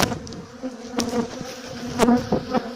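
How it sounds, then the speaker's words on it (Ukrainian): Honey bees buzz in a continuous drone around an open, heavy hive box, with individual insects swelling louder as they fly close past. "Ну і тут бджоли повно."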